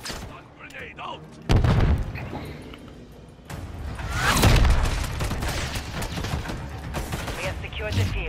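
A grenade blast in the Call of Duty Modern Warfare III game, on a Tokyo map in Domination mode, lands as a sudden loud burst amid rolling gunfire and booms, with voices talking over the battle.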